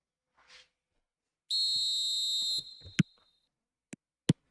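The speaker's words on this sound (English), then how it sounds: "There's the whistle." A referee's whistle blows at kickoff in the eFootball 2026 football video game, a single long shrill blast of about a second, followed by a few short sharp taps.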